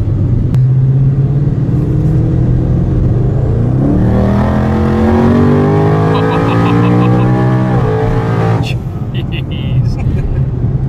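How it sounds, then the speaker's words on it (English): A twin-turbocharged 1400 hp Mustang with a 10R80 transmission accelerates under light throttle, engine note rising steadily as boost builds, loud and close, with people talking over it throughout. "Let's tip into it a little bit. Oh, you just feel that boost come in almost instant,"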